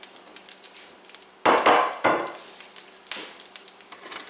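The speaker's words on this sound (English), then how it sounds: "I'm going to saute these just for a minute until the herbs release their fragrant oils into the skillet." Basil, thyme and sage hit a hot skillet with a loud burst of sizzle, followed by a second surge and then a steady lower hiss with scattered crackles.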